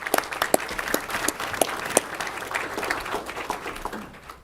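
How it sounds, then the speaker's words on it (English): Applause fills a county commissioners' meeting room as the audience claps steadily for employees honored for long years of service, fading out at the end. "We'll give a round of applause to all those who have that."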